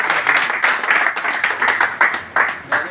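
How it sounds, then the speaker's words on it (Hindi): An audience at a public forum with a municipal chairman candidate gives a loud round of applause, close and energetic clapping with repeated sharp bursts that rise and dip in quick surges over a few seconds. "चलिए एक जोरदार ताली हो जाए"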